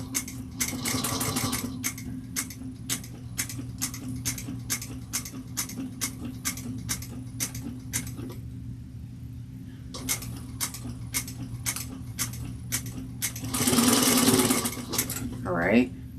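Sewing machine stitching fabric along a 5/8 inch seam, a steady rapid rhythmic clatter running close and loud with a short pause midway, over a constant motor hum.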